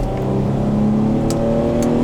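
G35 coupe engine in manual mode revving and pulling hard under acceleration, a loud, steady rising drone heard close from inside the car.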